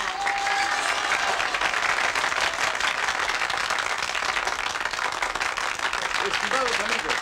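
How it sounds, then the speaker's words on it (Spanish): A crowd at a queen's coronation event gives loud, continuous applause, a dense wash of many hands clapping together with murmuring voices mixed in. "pido el mejor de todos sus aplausos para nuestra reina"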